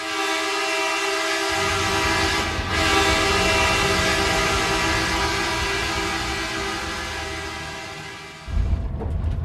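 A train passes with a long, loud horn blast over steady rumbling and rail noise, the horn holding for several seconds before fading as the train moves on.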